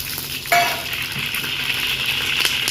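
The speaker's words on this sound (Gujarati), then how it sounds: "સેવ ટમેટાના શાકનો વઘાર કરશું." Mustard seeds, fenugreek, cumin, star anise and hot garam masala hit hot oil with a sudden loud sizzle, then settle into a steady crackling fry for sev tameta shaak, with faint stirring and utensil clinks.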